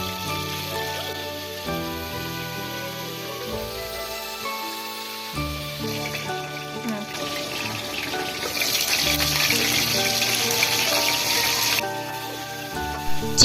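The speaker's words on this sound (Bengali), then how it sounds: "কড়াইয়ে তেল দিয়ে দিয়েছি ভাজার জন্য। এখন চিকেনগুলো দিয়ে দিচ্ছি।" Chicken pieces fry in hot oil in a wok, giving a continuous bright sizzling hiss that swells louder toward the end, with background music playing throughout.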